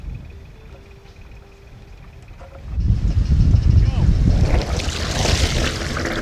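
Wind buffets a sailboat at sea off Espiritu Santo, Mexico, starting faint and then rising into a loud, close rush of gusts and water noise for the second half, with no clear talk.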